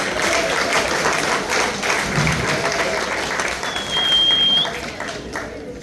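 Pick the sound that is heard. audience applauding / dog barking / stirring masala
audience applauding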